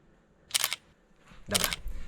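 A camera shutter fires twice while a selfie is taken in a bathroom: two bright, close mechanical clatters about a second apart, each with a quick double-click texture, over a low room hum.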